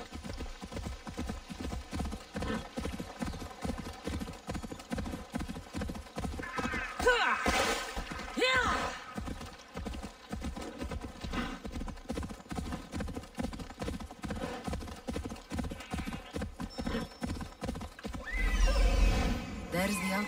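A horse gallops in the video game Assassin's Creed Odyssey, a rapid rhythmic clip-clop of hooves running throughout with a couple of whinnies, while someone talks over it at times.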